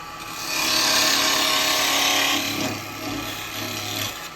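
Carbide woodturning tool cutting into a spinning burr wood blank on a lathe, a steady close scraping rasp that swells and holds, then eases into lighter intermittent cuts over the hum of the lathe.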